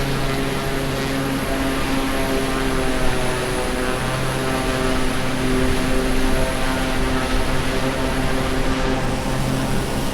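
Steady propeller aircraft engine drone from Microsoft Flight Simulator 2020 over Honolulu, a continuous loud hum with constant tonal harmonics and no breaks.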